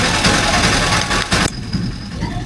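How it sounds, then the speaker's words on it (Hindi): An auto rickshaw engine runs loud and close with a dense, steady rumbling drone, then the noise drops sharply in level halfway through while a fainter hum continues. "आपको इस ऑटो रिक्शा की जो है कितनी आवाज़ आपको सुनाई दे रही है"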